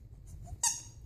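A small squeaky toy frog figure, part of a collection of frogs and lizards, gives one short, bright squeak near the end, heard close and alone after a brief rustle.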